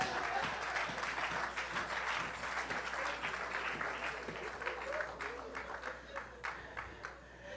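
Steady applause from a church congregation fills the space, dense and continuous with sharper individual claps standing out toward the end, and voices mixed in underneath.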